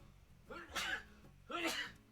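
A person sneezing twice, quiet and somewhat distant, two short bursts about a second apart.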